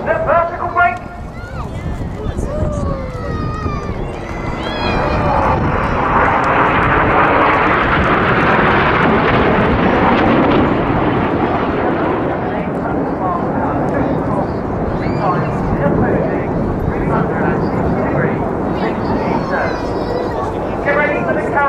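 Aircraft flying a vertical break manoeuvre at the RAF Cosford Airshow, a loud, sustained broad roar that swells and holds steady, with a commentator talking over it.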